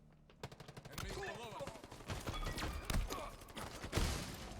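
Rapid bursts of gunfire in a Halo multiplayer match, dense overlapping shots with thuds and game effects, with players calling out over the action.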